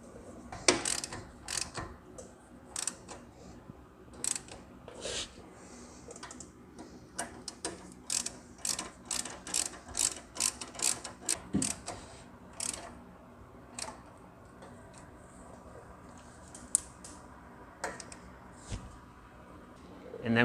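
A ratchet tightens bolts on the front shock brackets of a 2004 Chevy Suburban 2500 4WD, giving rapid bursts of sharp clicking in uneven spurts with pauses, close and distinct, over a low garage background.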